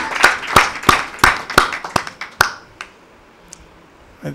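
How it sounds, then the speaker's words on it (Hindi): An audience at a Christian worship gathering snaps their fingers in place of clapping, giving about eight sharp, evenly spaced snaps that thin out and fade, followed by a couple of faint scattered clicks. "तालियां नहीं बजाते, उंगलियां बजाने हैं"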